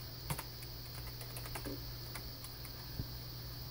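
Quiet, steady clicking of keys as a password is typed on a computer keyboard, a few sharper taps standing out over a constant low electrical hum.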